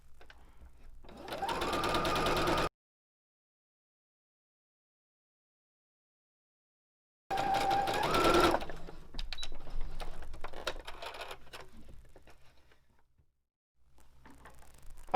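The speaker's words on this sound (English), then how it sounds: "I'm just going to create a stitching line" A sewing machine stitches a skirt seam with a 5/8 inch seam allowance in two separate runs, a short burst and then a longer one, with a silent gap between them and quieter handling noises afterward.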